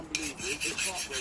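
A file rasps against a hardened steel hunting knife blade, scraping off scale in several quick rhythmic strokes, close and harsh.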